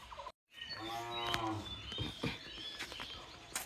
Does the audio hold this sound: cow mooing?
yes